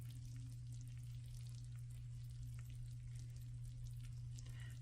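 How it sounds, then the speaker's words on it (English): Taco casserole with Doritos and melted, bubbly cheese, fresh from the oven, giving off a faint, steady sizzle and crackle over a low background hum, with no talk. "Just sizzling."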